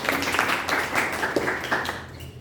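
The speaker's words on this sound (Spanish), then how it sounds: "Aplausos para sus compañeros." Brief applause from a small group, a quick patter of hand claps at moderate loudness without speech.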